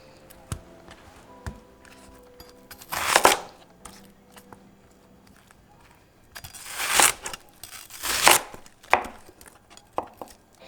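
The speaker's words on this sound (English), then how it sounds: "So for our onion, we're just going to cut it into moons." A knife slices an onion into moons on a cutting board, with sporadic light taps and a few loud chopping bursts near 3 and 7–9 seconds, close and without talk.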